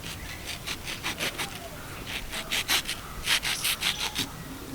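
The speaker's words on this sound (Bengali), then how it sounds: "ছুরি দিয়েই কাটছি" A knife slices repeatedly through a ripe mango with green skin and yellow flesh, giving a rhythmic series of soft, close rasping strokes that quicken toward the end.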